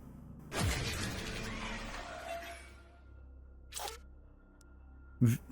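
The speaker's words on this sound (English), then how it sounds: "Camera shutter failure." A camera shutter failure in the space-agency game Mars Horizon plays as a crackling, shattering mechanical burst that fades out, followed by two short sharp clicks or pops separated by quiet.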